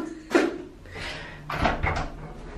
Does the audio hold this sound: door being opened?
yes